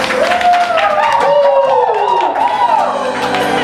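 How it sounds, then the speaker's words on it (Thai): A small group claps and cheers in a concert-like way, with loud whoops and sliding vocal calls over scattered claps. A voice carries on throughout. "ขอเสียงปรบมือหน่อยดิ"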